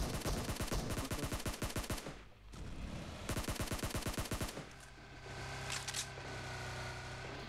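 Rapid automatic gunfire from an AUG rifle in the mobile game PUBG Mobile crackles in dense bursts, a pause between them, then a steadier mechanical hum with fainter shots, loud and close.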